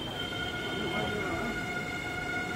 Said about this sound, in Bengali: এখন ট্রেন নৈহাটি ঢুকছে